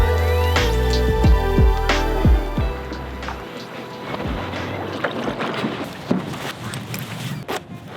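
A motorboat engine drones and revs at close range, then drops away into rushing wind and water noise.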